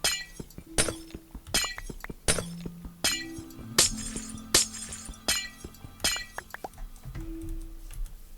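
Repeated glass blocks shattering in Minecraft, a run of sharp crashing breaks with bright tinkling debris, several in quick succession over a low game tone, loud and close with no talk.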